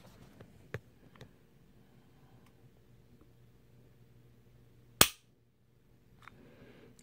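A dry-fired pistol trigger snaps with one sharp, loud click in a quiet room, preceded by a few faint handling taps and followed by light rustling.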